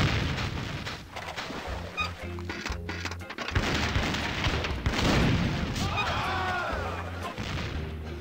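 Booming cannon shots and explosions from an arcade video game sound over a dense, continuous mix of game music and effects.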